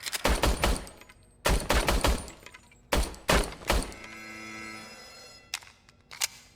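Service weapon fired in RoboCop: Rogue City: three loud, close bursts of rapid shots in quick succession, followed by a lingering mechanical hum and two sharp metallic clicks, with no voices.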